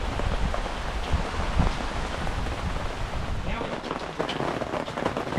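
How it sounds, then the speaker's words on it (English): Rain falls steadily during a free camping trip by a river, a soft continuous patter and hiss, fairly faint, with brief voices and movement near the end. "It's raining."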